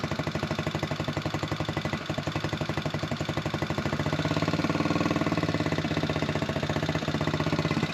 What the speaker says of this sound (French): Là c'est le ralenti.